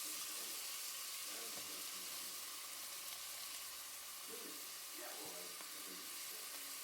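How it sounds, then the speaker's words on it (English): Onions and peppers fry in a little oil in a pot for peas 'n rice, giving a faint, steady sizzling hiss with a few soft stirring knocks and clatters, quiet and without talking. "I only added a little bit because I will just use this to fry down my onions and my"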